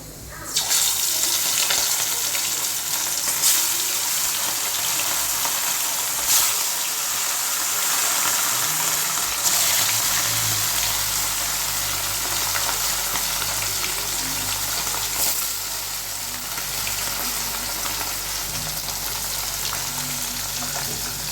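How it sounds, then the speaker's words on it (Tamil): Sardines frying in hot oil in a home kitchen give a steady, close sizzle that runs the whole time, with occasional clinks and stirring sounds. No one speaks. "அதுக்குள்ளே நம்ம மீனை வறுத்துக்கலாம் எண்ணெய் காயட்டும்"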